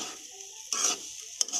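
Potato pieces for aloo bhaji fry in a pan with a steady hiss, broken by two louder scraping stirs of the spatula, close and without talk.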